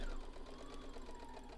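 A sewing machine stitches through a bulky boxed-corner bag, its motor whirring with a rapid, even needle rhythm, close and steady for a brief burst.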